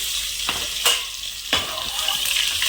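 Cumin and garlic sizzle steadily in hot oil, a bright crackling hiss with a few sharper pops and spits along the way.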